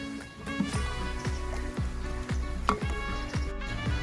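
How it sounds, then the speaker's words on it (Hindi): Falsa sharbat stirred with ice: steady, rhythmic mixing strokes roughly every half second, with soft swishing and light clinks throughout, close and moderately loud. "इसमें बर्फ डाल दीजिए और इसको मिक्स करके ठंडा कर लीजिए"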